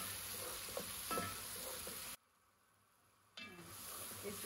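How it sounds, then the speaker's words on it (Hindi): Tomatoes frying in a pan for an Awadhi mutton biryani, a steady close sizzle with stirring scrapes, briefly cut to near silence midway before the frying resumes. "अब हम इसमें टमाटर डाल देते हैं और इनको अच्छे से जो है ना भून लेते हैं।"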